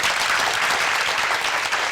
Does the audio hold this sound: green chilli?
no